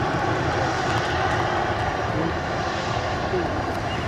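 A British Airways jet airliner at Nashville airport gives off a constant, dense engine rumble and hiss, fairly loud and unbroken throughout, with voices mixed in over the noise.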